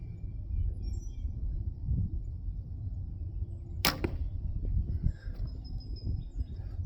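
A single arrow looses from a cheap bow at a 10-yard range, a sharp broadband snap near the four-second mark with a short hum and string slap trailing off over low outdoor rumble.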